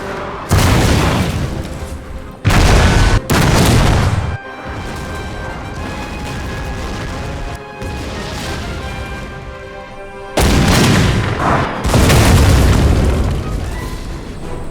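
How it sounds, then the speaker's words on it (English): Repeated heavy artillery booms during a bombardment of villages in a Total War battle between the British Empire and Afghan tribes at Kandahar, 1880, with loud blasts in bursts over a sustained rumbling battle din. "The British began with a bombardment of the villages."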